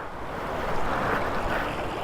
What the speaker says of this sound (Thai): เนี่ยตรงนี้เป็นน้ำตก